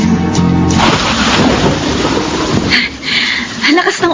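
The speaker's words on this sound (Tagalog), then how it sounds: "Ang lakas ng ulan." Heavy rain pours down steadily in a broadband roar throughout, loud and close, with a faint voice and a brief musical phrase at the start.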